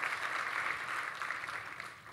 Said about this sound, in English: I would like to have a round of applause for all the work that they have done